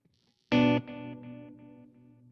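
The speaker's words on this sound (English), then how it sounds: "See, all those highs are gone from the reverb, which is very cool" A single guitar chord rings through a Kemper amp reverb set with its highs decayed for a darker tone, a loud attack fading into a smooth, warm tail.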